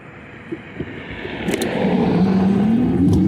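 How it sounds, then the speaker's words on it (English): Road traffic passes nearby while someone waits to cross. A car engine swells and rises in pitch as the vehicle approaches, over a steady background of road noise, with a couple of faint clicks. No one speaks. "Gotta wait for traffic now."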